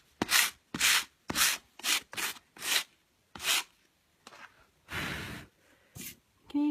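Everlong paint on wood edges being distressed by hand, a series of about a dozen brisk, close rubbing strokes in an uneven rhythm with short pauses between them, including one longer scrub near the end.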